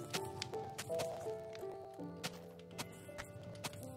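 Footsteps crunch through grass in a steady walking rhythm in Minecraft, Xbox 360 console edition, fairly faint, over a soft background of tonal music.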